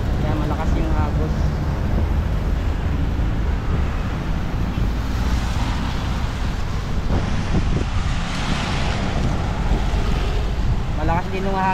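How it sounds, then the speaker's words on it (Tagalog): The Marikina River runs with a strong, rushing current during a typhoon, heard from a bridge as a steady, loud roar of water mixed with gusting wind noise, while someone talks over it. "Malakas po yung tubig na umaagos dito"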